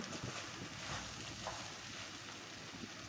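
Okra (bhindi) sizzles steadily in a pan of tomato masala, a soft, continuous crackling fry with faint stirring and no talk.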